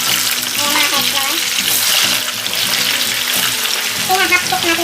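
Loud, steady sizzling and crackling of sweet potatoes frying in hot oil for kamote que, close up, with faint clinks and bubbling throughout.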